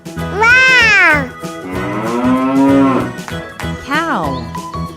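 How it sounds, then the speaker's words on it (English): A cow moo from a wooden toy animal sound, long and loud with a deep drawn-out bellow, followed by a shorter second call, with background music underneath. "Cow."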